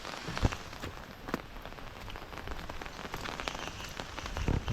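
Heavy rain beats down near a small river and flattened paddy fields, a steady close patter with sharp, scattered drops striking nearby surfaces.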